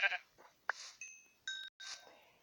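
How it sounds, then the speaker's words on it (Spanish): Sheep bleating in a Minecraft-style video game, several short clean bleats and tones in quick succession with gaps between them, close and clear over near silence. "las ovejas."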